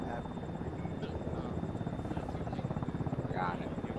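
A Chinook helicopter in the Arma 3 military game drones steadily with a fast, even rotor chop that stays constant throughout, faint and distant in the mix under occasional quiet chatter.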